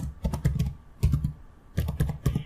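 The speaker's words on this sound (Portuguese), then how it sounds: "vou digitar o nome" Quick bursts of typing on a computer keyboard as a name is entered into an Excel spreadsheet, coming in three close, crisp clusters of keystrokes with short pauses between them.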